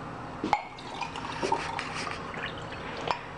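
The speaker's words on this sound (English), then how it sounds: "So I'm gonna pour my water." Water poured from a cup into a plastic container holding leftover salsa, made while cooking black bean soup; soft liquid trickles with a few small drips and light knocks, close by and fairly quiet.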